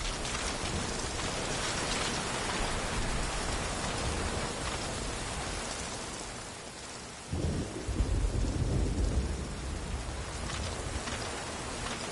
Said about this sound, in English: The rain was coming down just as hard the day we met Paz.